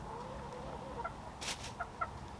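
A rooster called Foot Rooster gives a few soft, scattered clucks at close range, brief and quiet against a low background hum.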